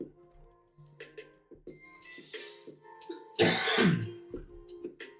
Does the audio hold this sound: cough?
yes